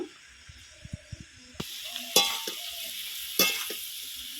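Vegetables sauté in a hot pan with turmeric and salt for a Bengali shukto, a steady close sizzle broken by a few spoon taps and scraping stirs against the pan.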